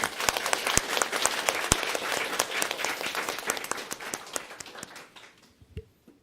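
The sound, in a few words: audience applause for parents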